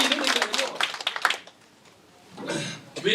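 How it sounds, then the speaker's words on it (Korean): A church congregation claps in praise, bursts of hand clapping that fade to near silence midway and then pick up again briefly, moderately close. "우리 주님께 영광의 박수를 드리겠습니다"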